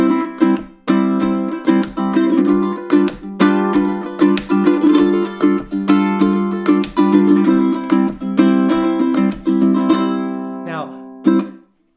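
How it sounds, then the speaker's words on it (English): Rapid, rhythmic ukulele strumming in a flamenco rumba pattern, bright plucked strings with three sharp percussive accents per pattern, steady for about eleven seconds. "The Rhumba Flamenco strum sounds like this."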